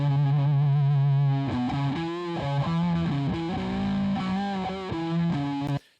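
An electric guitar run through negative-ratio compression in a mix plays distorted, sustained chords and notes with a thick, buzzy tone. A held chord opens, then shifting chord changes follow, and it cuts off abruptly at the end, alone.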